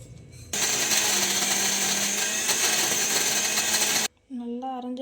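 A kitchen mixer grinder blends mint chutney in its jar, a loud, even high whir for about three and a half seconds that cuts off abruptly, followed by a voice speaking.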